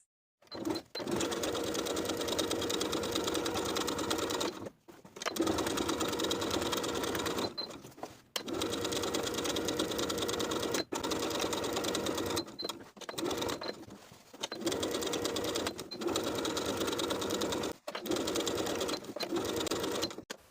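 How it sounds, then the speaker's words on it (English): Sewing machine top stitching around the edges of a pressed jumper with a quarter-inch seam allowance, running in steady, loud bursts of rapid stitching separated by short pauses, about seven runs in all. "we're going to top stitch all the way around with a 1/4 inch seam allowance"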